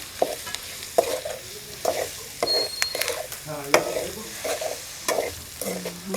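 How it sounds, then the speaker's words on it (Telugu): Ginger and curry leaves fry in hot oil in a pan for chicken liver and gizzard fry, giving a steady close sizzle broken by repeated sharp scrapes and clinks of a spoon stirring at a fairly regular pace. "కరివేపాకు, అల్లం కొంచెం ఇట్లా వేపుకోవాలి ఫస్ట్ కొంచెం ఒకసారి"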